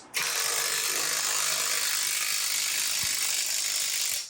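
Impact wrench hammering off a 33 mm CV axle nut on a Chevy Impala in a garage, a loud, steady rattling burst running continuously for about four seconds with no talk.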